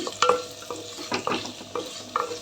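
Frying in ghee gives a close sizzle, broken by repeated scrapes and clatter of a spatula stirring the pan.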